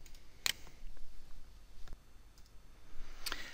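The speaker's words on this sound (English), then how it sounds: "then I can click test connection" Computer mouse click on a test connection button in a BigQuery setup screen: a few sparse, sharp little clicks, one near the start and one near the end, over a quiet low room hum.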